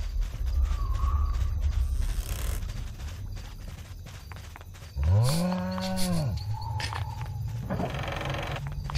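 A cow in the PC game Sacred lets out one loud, drawn-out moo amid game sound effects and faint footsteps.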